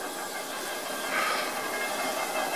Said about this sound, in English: There comes the Korean steam engine.